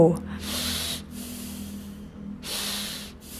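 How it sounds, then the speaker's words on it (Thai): Nasal breaths drawn in and pushed out during a children's yoga exercise: three close, hissing airflow pulses, each lasting about half a second to a second, with brief pauses between. "สูดหายใจเข้าออก แบบเร็ว"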